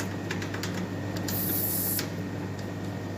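Refrigerant gas hisses sharply from the Schrader valve of an ice machine in a short burst lasting under a second, heard up close over steady machine hum and a few clicks.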